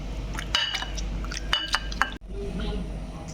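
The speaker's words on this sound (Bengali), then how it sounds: "এবার আমি একটা ভালো করে নাড়িয়ে নেব জামের দানাগুলো যেন আলাদা হয়ে যায়" A spoon stirs jamun berry juice in a glass or bowl, producing bright clinks at intervals against the rim over a soft liquid swirl, close-up, with a brief cut near the end.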